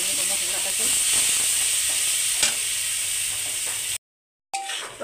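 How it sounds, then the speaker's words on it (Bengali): Cumin masala paste frying and being stirred in a pan over lowered heat, a steady close sizzle with faint scraping, cut by a short silent gap before resuming briefly. "ভালো করে কষিয়ে নেবো মশলাটাকে"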